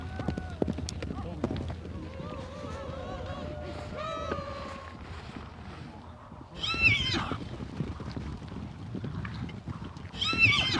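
Horses on the steppe whinny and snort amid a busy outdoor scene, with rising and falling neighs, shuffling hoof sounds and low rumbling beneath, voices mixed in at moderate distance.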